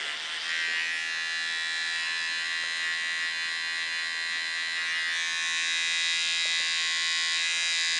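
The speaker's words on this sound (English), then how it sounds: "I'm going to use my Andis Slimline Pros to" An Andis Slimline Pro trimmer buzzes steadily at close range while lining out hair for a side part pompadour, a continuous high-pitched electric hum with no speech over it.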